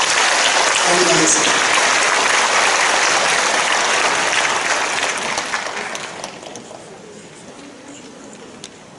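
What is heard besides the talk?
applause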